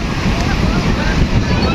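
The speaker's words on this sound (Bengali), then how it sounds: "পতেঙ্গা সমুদ্র সৈকতে বিশাল বিশাল ঢেউ" Big waves roll in at Patenga sea beach in Chattogram, a loud, dense roar of surf mixed with heavy wind buffeting the microphone.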